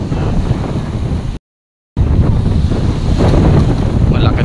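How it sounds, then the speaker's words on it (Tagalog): Strong monsoon wind buffets the microphone at a seaside fishport with surf behind it, a loud, steady roar that cuts out briefly and then returns just as heavy. "Medyo malakas po ang hangin at habagat na."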